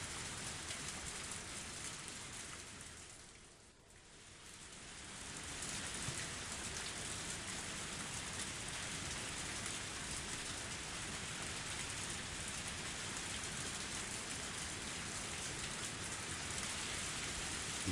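Heavy rain pours steadily in the video game Higurashi, a dense, even hiss that stays loud and continuous for the whole stretch, with a brief dip early on and no voices.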